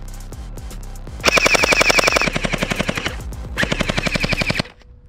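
A gel blaster firing in rapid full-auto bursts, a fast rhythmic stream of sharp clacking shots with a whirring motor whine, two longer bursts after a few single pops.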